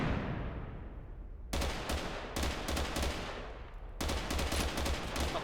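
Gunfire in the online battle royale game Totally Accurate Battlegrounds: one sharp shot fades out, then dense bursts of repeated shots arrive in several rapid volleys at moderate distance.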